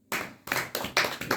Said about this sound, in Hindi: ताली बजाओ बच्चे के लिए।